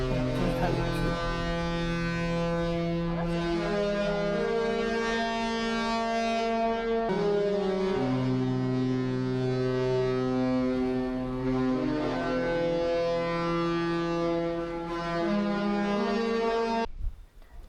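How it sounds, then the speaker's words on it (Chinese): A cruise ship's horn plays a melody of sustained, sliding harmonic tones in a Mediterranean port, loud and continuous for about seventeen seconds with brief breaks between phrases before cutting off. "原來船的汽笛還可以這樣的演奏音樂"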